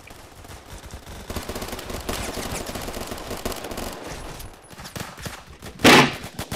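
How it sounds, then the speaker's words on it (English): Rapid automatic gunfire rattles almost nonstop in a Phantom Forces match, loud and close, ending in one sharp, louder shot. "Wait, what the hell is that gun?"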